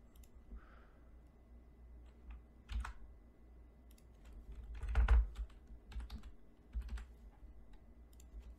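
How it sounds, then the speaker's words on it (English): Quiet computer-keyboard typing in a few sparse bursts of clicking keystrokes, close and soft, with pauses between them and no talk. "I have to type here."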